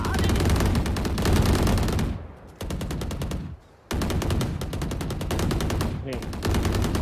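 Rapid automatic gunfire from a video game match, dense sustained bursts of shots with two brief pauses, loud and close, and a player talking over it.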